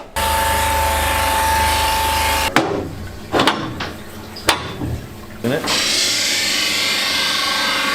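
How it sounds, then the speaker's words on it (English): A ski edger grinds the side edge and base bevel of a ski in a tuning workshop, a steady whirring drone that stops for about three seconds of clatter and knocks, then resumes. "using our edger, we do the side edge and a base bevel"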